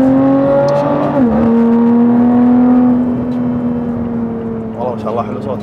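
A Formula 1 race car engine, a sustained high-pitched whining tone that dips briefly then holds steady, gradually fading as it recedes, with voices talking over it.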